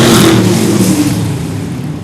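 Street stock race cars roar loudly at Seekonk Speedway as the green flag drops, a dense, sustained engine drone of the whole pack accelerating close by.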